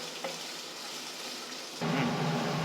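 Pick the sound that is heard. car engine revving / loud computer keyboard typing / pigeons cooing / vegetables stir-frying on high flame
vegetables stir-frying on high flame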